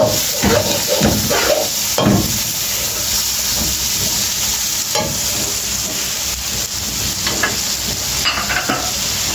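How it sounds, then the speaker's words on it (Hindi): Two large onions sizzling loudly in a hot pan for spicy chicken spaghetti, a constant close frying hiss with occasional stirring scrapes and no talking. "अब मैं डाल रहा हूँ प्याज।"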